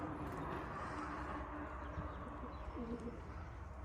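A Gök Ayna Kuyruk pigeon coos softly in short, low calls over a steady outdoor background hum, fairly faint and without talk.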